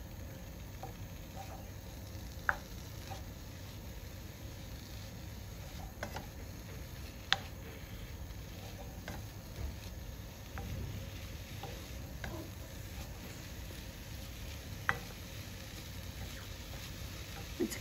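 Vegetables and mince browning in a pan on a school hob turned up high while cooking chilli con carne, giving a steady low sizzle with occasional stirring clicks and taps throughout.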